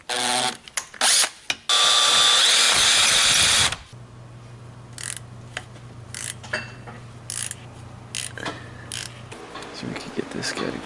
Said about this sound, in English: So I'm gonna drill it out.